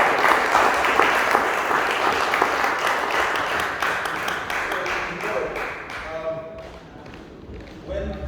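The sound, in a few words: audience applause at awards dinner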